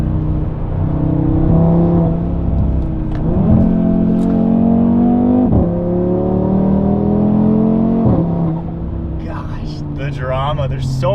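Audi RS3 with a louder aftermarket exhaust accelerating hard at full throttle, a loud, rising engine note that climbs through several gear shifts in quick succession, close to the car, with a voice speaking briefly over it near the end.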